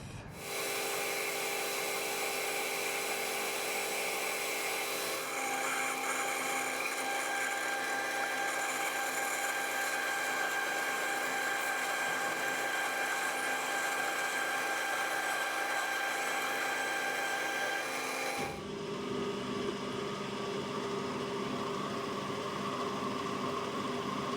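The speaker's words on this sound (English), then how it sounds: "what I've got to do now is drill and tap this for half Whitworth" A steady whining drill bores a hole in metal, running continuously for most of the clip, then the pitch and texture shift near the end as the machining changes to tapping a half-inch Whitworth thread.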